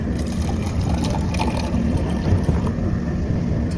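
Warm water pouring from a train's water dispenser into a container, a steady rushing stream that holds evenly throughout at close range, with a low rumble of the moving train underneath.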